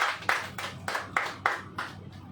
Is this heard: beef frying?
no